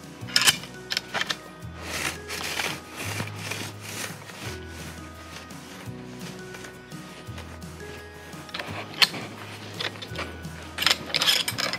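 Biopori soil auger being twisted into the ground, a series of scraping, grinding and creaking mechanical turns with rhythmic pauses between strokes, close and moderately loud, with no talking.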